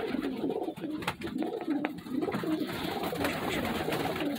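Pigeons coo in low, throaty repeated calls close by, several birds overlapping in a steady rhythm with light background noise and no speech.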